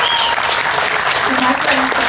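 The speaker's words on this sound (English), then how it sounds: "I want to hear another round of applause for the girls today" A crowd at a resort hotel's anniversary celebration claps loudly for the girls, a short dense burst of continuous applause with a faint whistle-like tone over it.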